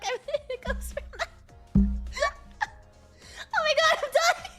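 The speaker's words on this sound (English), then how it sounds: "I have the hiccups from doing the Deku voice." A person with hiccups gives several sharp, abrupt hiccups spaced unevenly, mixed with strained breathy laughter and short vocal bursts, close and fairly loud.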